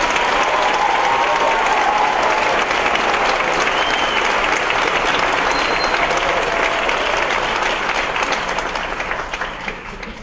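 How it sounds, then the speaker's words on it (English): A school moving-up ceremony audience applauds its graduates, with dense, loud, sustained clapping from a large crowd that carries on evenly before easing off slightly near the end. "Could we give our graduates a round of applause?"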